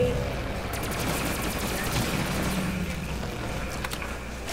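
Rapid video game gunfire during a boss fight, a dense, steady stream of shots blended with game sound effects throughout, with no clear gaps between bursts.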